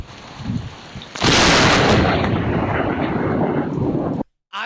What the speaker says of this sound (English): This security camera caught this police car getting struck by What? lightning.